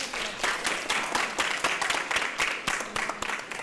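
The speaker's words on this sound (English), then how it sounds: "One more round of applause for John" An audience claps steadily at a design workshop talk, a dense burst of applause filling the room without a break.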